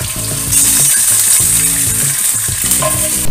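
Meat fillets frying in oil in a pan, a loud continuous close sizzle with crackling and occasional stirring clatter, no talking.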